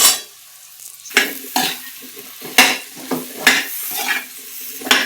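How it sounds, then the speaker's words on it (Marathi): Finely chopped okra stir-fried in a spice masala, a loud close sizzle punctuated by repeated sharp scrapes and clanks of a spatula against the pan, coming in irregular bursts about every half second. "भेंडी टाकून घेतली, मग आता चांगली परतून घ्यायची मसाल्यामध्ये।"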